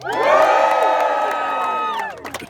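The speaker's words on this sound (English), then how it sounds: "if we can cheer a little bit louder so that they can hear us in the kitchen" Farm dinner guests at an outdoor field dinner cheer and whoop loudly together on cue, a sustained crowd roar of voices lasting about two seconds before cutting off into scattered talk.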